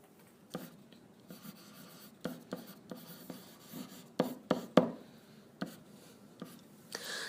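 Pen scratching on paper while a math factor ladder is drawn, soft short strokes and taps in an irregular rhythm, close and quiet with no voice.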